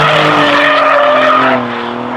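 Alfa Romeo Giulia Quadrifoglio on a racetrack, tires skidding with a loud sustained squeal over a high-revving engine, easing slightly toward the end.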